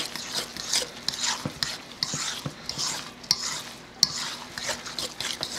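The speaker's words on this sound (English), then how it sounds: "we're going to add our eggs in first and give them a good stirring in, just like this" Eggs are stirred into a cornbread dressing mixture in a bowl, making a continuous, close, wet scraping and squelching with small utensil knocks that repeat every second or so. No one speaks.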